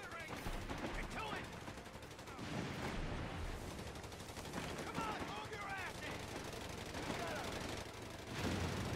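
Gunfire crackles and booms through a Company of Heroes 3 battle in the Italian campaign, with repeated sharp shots and bursts, sniper fire among them, over dense battle noise while someone talks in between.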